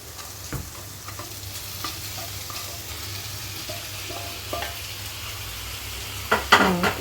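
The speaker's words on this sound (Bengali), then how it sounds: "এবার পনিরটা এটার মধ্যে দিয়ে দাও, পনিরটা এটার মধ্যে দিয়ে দাও।" Paneer frying and sizzling in a pan with a little soy sauce, a steady hiss broken by clicks of stirring and a louder burst of scraping near the end, with no talk.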